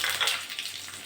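Dry chili, five-spice and bay leaf fry in hot mustard oil in a pan, giving a close, steady sizzle with crackling spits that ease off slightly toward the end.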